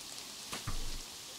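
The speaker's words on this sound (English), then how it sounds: "Oh, it's because it's raining." Soft steady rain falls in a zoo-building game, a faint continuous hiss with a couple of brief muffled thumps and no talking.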